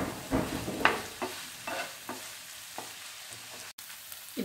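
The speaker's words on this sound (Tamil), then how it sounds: "வினிகரும் சோயா சாஸும் சேர்த்ததுக்கப்புறம் ஒரு 2 நிமிஷம் வச்சு காய்கறியில் நல்லா வதக்குனதுக்கப்புறம்" Vegetables sautéing in a pan with vinegar and soy sauce for vegetable pasta, a soft steady sizzle broken by several louder scrapes and stirs of a utensil, fairly close.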